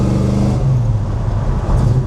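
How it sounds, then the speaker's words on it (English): A 1966 Chevrolet Chevelle 454 custom coupe accelerating hard out of a corner with its tires spinning, a loud, close, deep engine drone that rises and swells over two seconds. "Spin the tires a little bit on that corner."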